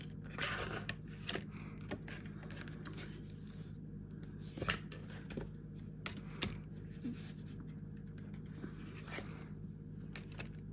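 Scissors cut into craft material, scattered snips and crunchy cuts at irregular intervals, fairly quiet over a faint steady hum.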